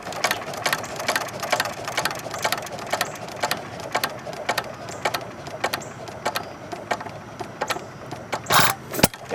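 A 1919 Domestic side-shaft hit-and-miss engine running during a tune-up, close by: a quick, steady train of sharp mechanical beats with a light metallic rattle and one louder burst near the end.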